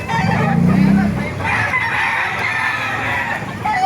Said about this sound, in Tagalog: Nakakalapit tayo ng manok, oh.